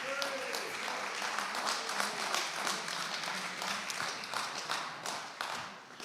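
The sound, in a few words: concert audience applause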